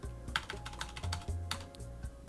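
Computer keyboard keys tapped out in a quick, uneven burst while entering a command-line installer line, close and crisp with no talking.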